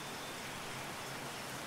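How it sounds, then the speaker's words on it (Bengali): Heavy storm rain as a cartoon sound effect, a dense, even hiss of downpour filling the short stretch at low level, with no voices. "আরে বাইরে কি ঝড় বৃষ্টি হচ্ছে দেখছো না? আকাশ গলে গলে বৃষ্টি পড়ছে,"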